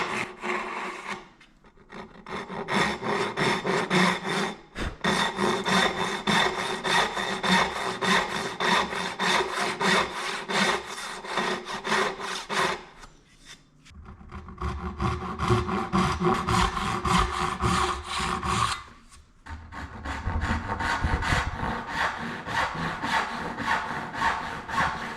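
A hand saw cuts through wood clamped in a vise for joinery. It makes long, steady rasping strokes in three sustained bursts, separated by short pauses. The sawing is close and loud, with no talking.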